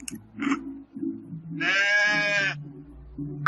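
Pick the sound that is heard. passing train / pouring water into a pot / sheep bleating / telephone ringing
sheep bleating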